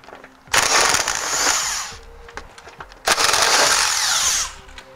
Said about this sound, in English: Now let's go ahead and remove the manufacturer's bolts.